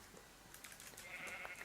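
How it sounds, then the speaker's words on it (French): Sheep in a Minecraft game let out a few quick, quiet bleats close together, faint and brief. "il y a des moutons juste là"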